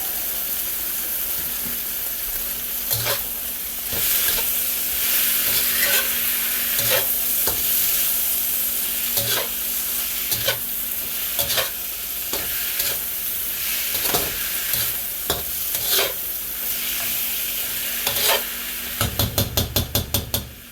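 Kung pao chicken stir-frying in a pan: a loud, continuous sizzle with rhythmic scrapes and clanks of a spatula stirring every second or so, close up, no talking.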